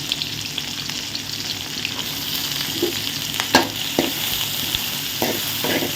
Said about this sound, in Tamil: இப்போ ரெண்டு வெங்காயம் பச்சை மிளகா கருவேப்பிலை அடுத்தது பூண்டு நல்லா கோல்டன் கலர் ஆகுங்கிறதுக்கு வதக்குவோம்